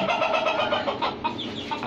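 Desi hens newly brought home to a small backyard cage cluck over and over, close by, in a steady busy stream with no talk.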